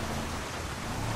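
Rain falls during a drive on a mountain road in GTA 5, heard as a quiet, steady hiss of broadband noise with a low rumble beneath it and no voices.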